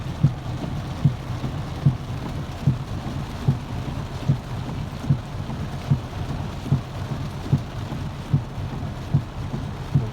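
Heavy rain pours down during a storm in Udon, Thailand, making a dense, steady hiss with a soft regular ticking repeating roughly every second throughout.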